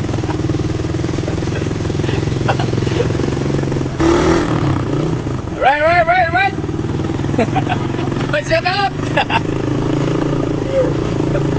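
A motorcycle engine hums steadily close by, with people talking and calling out over it throughout.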